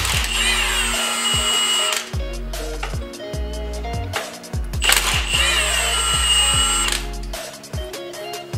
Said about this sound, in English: now we're loosening up all of these retaining brackets that hold the camshafts on